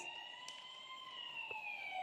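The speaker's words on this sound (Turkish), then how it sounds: "Bakın itfaiye arabam gidiyor." Toy fire truck siren wailing steadily in a high, slowly falling electronic tone, fairly faint and continuous with a couple of small clicks, no talking over it.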